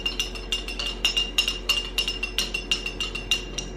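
Ice clinking against a glass of water, a quick series of bright, close glassy ticks repeating steadily over a low constant background hum.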